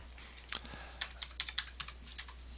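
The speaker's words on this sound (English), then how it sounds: "I'm going to type limits" Keys tapped on a computer keyboard to enter a command in AutoCAD, about a dozen quick crisp clicks in an uneven rhythm, close and alone over a faint hum.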